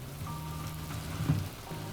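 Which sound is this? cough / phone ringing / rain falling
rain falling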